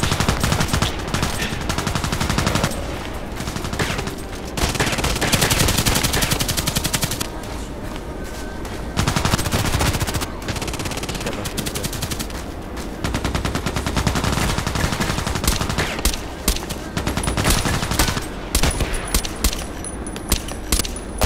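Rapid automatic gunfire in the shooter game Contract Wars, with long sustained bursts and brief pauses, loud and close, and shell-casing clinks here and there.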